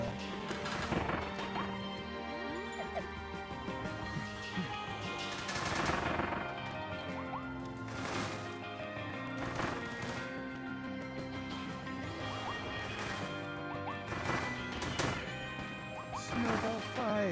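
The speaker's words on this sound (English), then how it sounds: "Snowball fight! Or snow bomb fight?" Snowballs or snow bombs hit and burst in a snowball fight in Kirby and the Forgotten Land, with repeated rapid smacks and crashes over steady game music.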